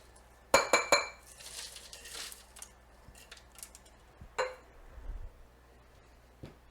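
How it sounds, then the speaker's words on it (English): Ice cubes clinking and rattling into a big glass while a Bloody Mary is made, with a few sharp bright clinks near the start, then softer shifting rattles and a later clink, close by. "Got a nice big cup of ice right here."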